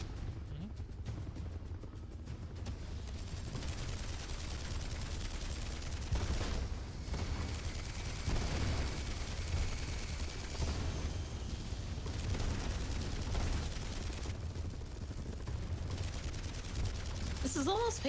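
Sustained turret gunfire in the Marlow Briggs and the Mask of Death video game, a dense, continuous rattle of shots and impacts that runs throughout, with voices talking over it.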